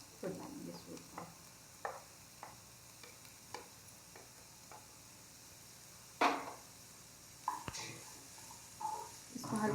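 Capsicum fries quietly in a pan for a paneer cheese sandwich filling, a faint low sizzle punctuated by sharp spatula scrapes and knocks against the pan, with brief murmurs of a voice in the background.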